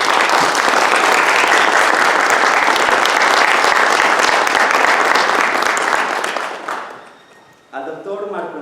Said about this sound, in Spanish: me gustaría también pedirle un fuerte aplauso